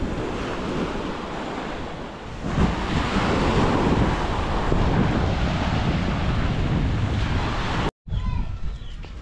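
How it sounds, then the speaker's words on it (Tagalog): Sea surf whipped up by strong monsoon wind, a steady loud roar of breaking waves with heavy wind buffeting the microphone, broken by a brief dropout near the end. "Nagkakalon-alon dahil yung hangin ay yung"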